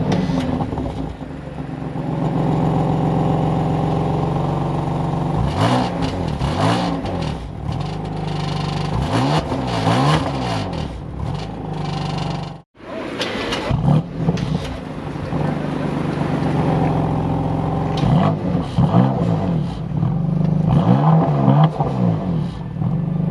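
A 2019 BMW M2 Competition's twin-turbo S55 engine revs and accelerates close by, with repeated rising and falling surges, a sharp brief cut near the middle, then more hard pulls, and speech mixed in.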